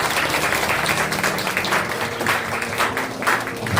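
A church congregation claps together in sustained, dense applause during an anniversary worship service, the clapping loud and steady throughout with no pause.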